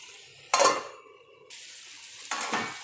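Two short metallic clatters of a lid set onto a cooking pot of fish gravy, about two seconds apart, over a low steady sizzle of food cooking.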